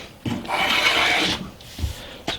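A hand plane chamfering the edges of timber against the grain on a timber-framed workbench, making two rasping, scraping strokes: a long one followed by a shorter one, with brief pauses between.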